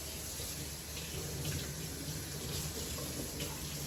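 Kitchen tap water running steadily while hands are washed before preparing fish and shrimp ceviche, a continuous close hiss and splash with no talk.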